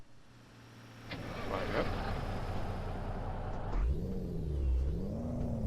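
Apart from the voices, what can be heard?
Peterbilt 389 truck engine starting, Cummins engine sound mod, Euro Truck Simulator 2 video game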